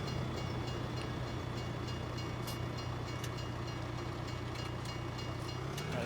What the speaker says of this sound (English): Better not get run over by this train